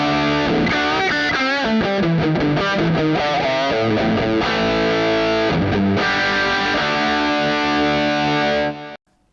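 A heavily distorted electric guitar played through a Valeton GP-5 patch with delay, chugging rhythm chords then sustained ringing notes, loud and continuous before cutting off abruptly at the end.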